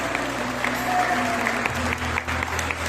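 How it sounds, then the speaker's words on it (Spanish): Applause from an audience at a school graduation ceremony honoring a teacher, steady and moderately distant, with a voice speaking briefly over the clapping. "Fuerte el aplauso, por favor"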